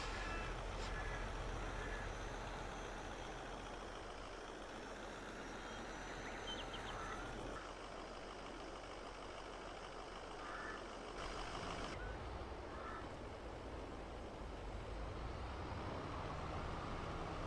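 A truck drives in Farming Simulator 22 on the Goldcrest Valley map, with a steady, loud engine drone and road rumble running throughout and no voices.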